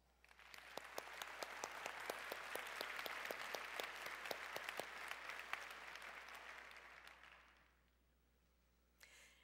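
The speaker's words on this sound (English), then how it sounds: "Please join me in acknowledging them all with your applause." A large commencement audience applauds faculty and staff at a university graduation ceremony, sustained dense applause from a big crowd that swells, holds for several seconds, then tapers off, followed by a brief sound near the end.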